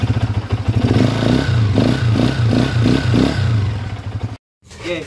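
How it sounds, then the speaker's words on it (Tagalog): A TMX 125 motorcycle engine converted to 200cc runs up close with a rough, rhythmic clattering and rattling from a noisy timing gear and connecting rod over the steady throb, then cuts out briefly before a short restart. "Makalampag, maingay yung timing gear, magaspang, malagitik, connecting rod yung tunog niya, sira."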